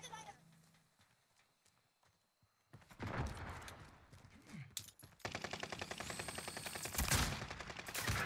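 Rapid bursts of gunfire from enemy players in a video game, loud and dense through the latter half, with shouted player voices over it and quieter game sounds before.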